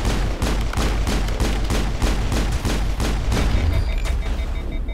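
Loud, rapid volleys of shotgun-style gunfire from the video game Mass Effect, fought in tunnels against geth, with shots hammering out in a continuous, slightly uneven rhythm that fills the whole stretch with no speech.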